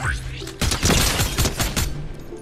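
A rapid cluster of Fortnite gunshots cracks out over about a second and a half, several close, loud booming shots in quick succession with no talking.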